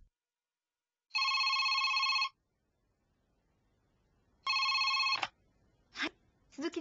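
A telephone rings in two electronic bursts, the first about a second long and the second shorter, clear and close in an otherwise quiet room, followed by a few soft clicks and rustles.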